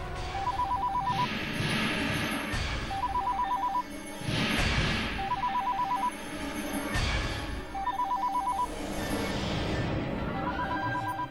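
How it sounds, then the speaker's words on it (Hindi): A telephone rings in repeated bursts, five rings spaced evenly apart, over a dense, noisy background with a tense musical hum, in a Hindi family drama. "माँ, फोन मत उठाना माँ, फिर से वही होगा।"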